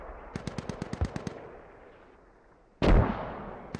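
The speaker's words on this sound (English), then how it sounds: "And looks like they're taking some fire here." Gunfire from the military shooter game Squad: a rapid string of about ten sharp automatic shots, followed after a pause by one heavy, loud blast with a rolling tail.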